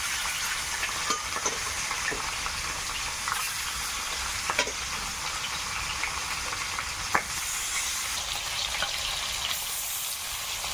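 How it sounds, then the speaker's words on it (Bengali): Whole shol fish caught from a pond frying in a hot kadai, a steady dense sizzle with scattered small pops and spatters throughout, close and continuous, with no talk. "কড়া ভালো গরম হয়ে গেছে সবগুলো একবারে দিই"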